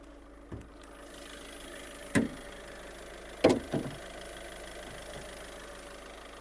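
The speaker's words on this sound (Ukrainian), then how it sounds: "Робота двигуна." A Skoda Octavia A5 engine runs at a quiet, steady idle, a low even hum with a few brief clicks and knocks rising above it.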